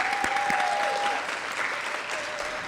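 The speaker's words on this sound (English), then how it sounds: "Let's give our scholars a round of applause." An audience at a scholarship induction ceremony claps steadily in a room, a dense even patter of applause that stays at a moderate level without any talking.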